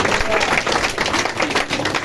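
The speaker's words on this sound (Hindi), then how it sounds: "ताली बजा के खूब धन्यवाद दें।" Church congregation claps together in thanks during a Hindi worship service, a dense, loud burst of applause filling the room for about two seconds.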